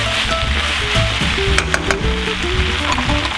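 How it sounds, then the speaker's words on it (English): Onion and cabbage stir frying in a pan for Korean black bean noodles, a loud continuous sizzle with busy clattering stirring and faint tonal sounds woven through. "Now add in the onion and the cabbage. Stir fry about 5 to 6 minutes or the vegetables are slightly softened."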